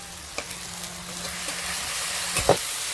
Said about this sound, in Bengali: এবার আমি একটু ভালো করে ভেজে নিই।